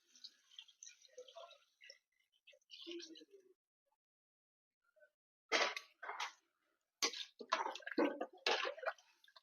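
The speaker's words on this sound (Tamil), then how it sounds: "இப்போ இது கூட நம்ம குழம்புக்கு தேவையான அளவு தண்ணி ஊற்றிக்கலாம்" Water is poured into chicken curry in a pan for the gravy, heard as a few short splashing, gurgling bursts close by after a quieter stretch of faint kitchen sounds.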